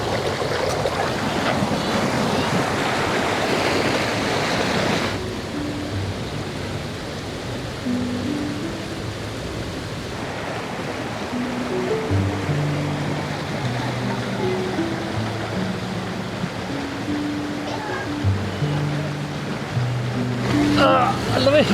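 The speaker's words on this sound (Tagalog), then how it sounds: "Ayan yung ilog niya, puro bato." A rocky river flowing at a resort campsite in Magallanes, with steady broadband rushing water throughout and people talking over it at times.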